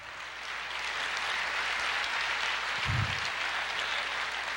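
Steady applause from a church congregation fills the space, a dense, continuous clapping that holds at even loudness throughout, with a brief low thump near the end.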